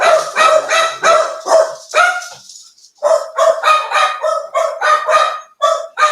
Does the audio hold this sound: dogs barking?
yes